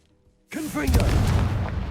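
A Confringo blasting spell cast in a Harry Potter video game bursts in suddenly after near silence, a whooshing magical swell rolling into a sustained booming rumble.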